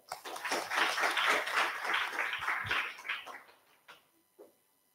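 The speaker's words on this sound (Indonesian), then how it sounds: "Oke, tepuk tangan untuk kita." An audience at a public law lecture in Indonesia claps, a burst of applause that swells, holds, then thins out into a few scattered final claps.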